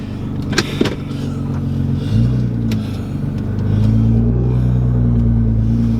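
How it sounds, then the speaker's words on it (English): An R32 Skyline GT-R engine rumbles and rises as it accelerates, with a few sharp hissing turbo blow-off valve bursts near the start, all heard from inside the car with the window slightly down. "so I can hear these blow-off valves"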